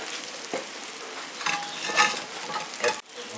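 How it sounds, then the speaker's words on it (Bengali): Spice masala for a chana dal tadka frying and being stirred in a pan, a steady close sizzle broken by several scraping stirs with no voices. "মশলা আমার রেডি হয়ে গেছে ভাজা দিয়ে দিচ্ছি অল্প চিনি"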